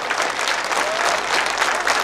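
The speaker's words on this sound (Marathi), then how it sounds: "अशाच टाळ्यांचा गजर तुमचा चालू राहू दे" Sustained applause from an audience at Karad Urban Bank's centenary celebration, a dense, steady clapping that fills the whole stretch without pause.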